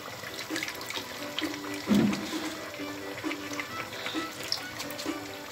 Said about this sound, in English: you have to wash your bitter leaf very well